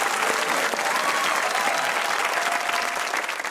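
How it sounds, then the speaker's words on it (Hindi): A studio audience on a TV comedy talk show claps loudly and continuously for several seconds, a dense close wash of applause that thins slightly at the end. "अपने लिए तालियां हो जाए।"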